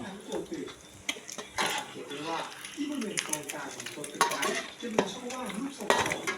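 An egg frying in a pan, crackling sizzle mixed with clinking of utensils and pan scrapes, while people talk over it throughout at close range.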